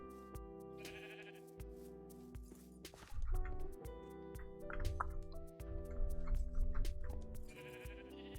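Sheep bleat in a modded Minecraft world, blended with a busy layer of game music and dripping, squishy effects; the bleats are faint and mixed under the steady background tones.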